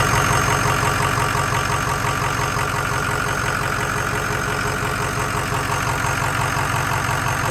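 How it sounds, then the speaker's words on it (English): A car's engine belt whines at idle while the motor runs steady and loud, a continuous droning hum with a faint rhythmic ticking and no change in pitch. "It's the belt making the noise"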